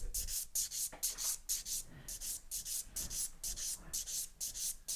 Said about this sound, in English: Step 4 is filing the top of the nail in the cuticle area.